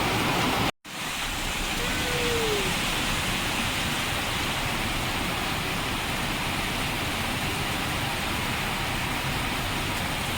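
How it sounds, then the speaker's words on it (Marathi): Heavy first-of-season rain pours down in a dense, constant roar, loud and unbroken apart from a brief cut near the start. "पहिला पाऊस हा किती जोरात पडतो आहे"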